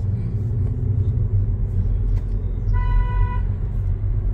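A single car horn toots for under a second over steady rumbling road and engine noise from inside a vehicle during a driving lesson.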